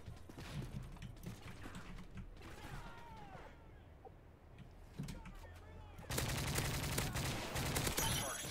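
Gunfire in the video game Call of Duty: Modern Warfare 2, a stretch of shots and mechanical game noise that swells into a loud, dense rapid burst near the end, with some talking mixed in.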